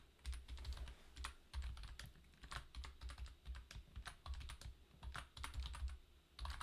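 Quick, quiet keystrokes on a computer keyboard as a long password is typed in at a sign-in screen, a close, irregular patter of clicks with no talking.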